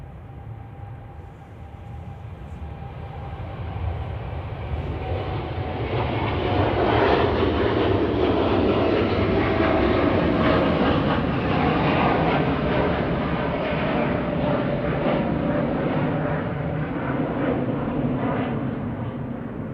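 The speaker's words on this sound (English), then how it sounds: "Qatar's rolling" A Qatar Airways Boeing 787-9 Dreamliner, registration A7BHN, rolls for takeoff at Manchester Airport, its engine roar swelling from a steady rumble to a loud, broad sustained thunder that holds through to the end, with no talk.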